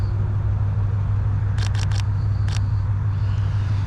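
Camera shutter clicking in a quick run of three shots, then one more a moment later, sharp and close over a steady low rumble during an automotive photo shoot.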